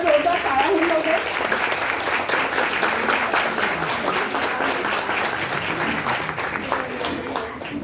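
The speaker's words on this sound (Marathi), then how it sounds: "एकदा जोरदार टाळ्या होऊन जाऊ दे." An audience at a prize-giving ceremony for a Pune singing competition claps heartily, a dense sustained round of applause that slowly tapers, with a voice briefly audible at the start.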